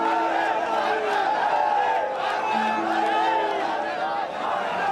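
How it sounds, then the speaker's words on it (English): Ecstatic crowds of BJP supporters celebrating an election win, a loud dense roar of many voices and cheering with chant-like shouts, sustained throughout. "Ecstatic crowds of BJP supporters started to celebrate the election win before it was official."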